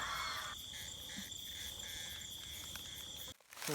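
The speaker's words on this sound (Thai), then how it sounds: "เงี้ยจักรจันพี่น้องเงี้ยจักรจัน" Cicadas calling at night in Thailand: a steady, loud high-pitched drone with pulsing bursts, cutting off abruptly near the end before resuming.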